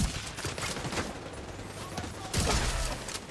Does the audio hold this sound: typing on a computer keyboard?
no